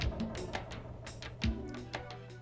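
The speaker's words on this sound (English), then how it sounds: "This sounds really nice for the big echoey door noise." A large stone door in the Sega Saturn game Grandia opens with two heavy low thuds about a second apart, each trailing a soft echoing ring, with faint tapping sounds scattered around them.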